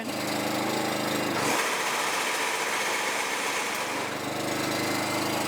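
A Kawasaki lawn mower engine revving up, loud and close, moving from a rough idle into a higher, busier full-power roar that holds steady before easing a little.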